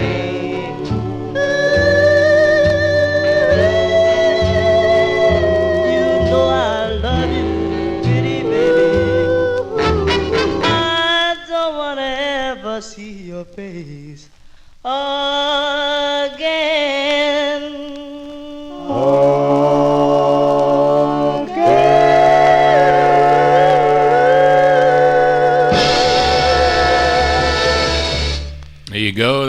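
A 1950s doo-wop record on the Chance label, a bluesy tune with harmonized vocals over a slow backing band, plays loud and clear, pausing briefly midway before resuming.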